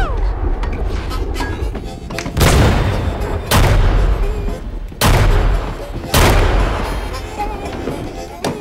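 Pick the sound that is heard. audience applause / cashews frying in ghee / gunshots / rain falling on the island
gunshots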